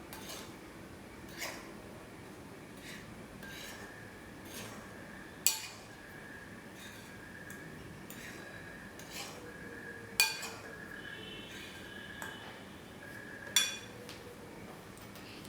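A spoon stirs sattu atta, ragi flour and bajra flour together in a bowl, with a low rustle and a few sharp, isolated clinks against the bowl's side.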